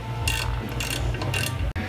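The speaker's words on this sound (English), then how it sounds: "tighten it all the way to 140 inch pounds" A ratchet tightening a brake bolt on a Camaro during a Wilwood brake upgrade, three quick bursts of rapid clicking over a steady low hum, close and clear, with no talking.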